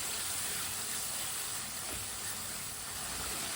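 Green peas sizzling in a pan while cooking for a turnip and pea curry. A steady, soft hiss runs the whole time, even and unbroken, with no talk over it.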